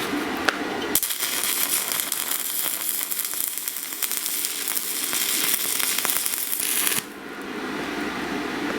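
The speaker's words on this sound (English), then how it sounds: "Now this is my first time welding with this machine" Stick welding on a SIMDER 5010 Pro welder set to 90 amps, a steady loud crackling sizzle of the arc running about six seconds, starting and stopping abruptly, with no talk.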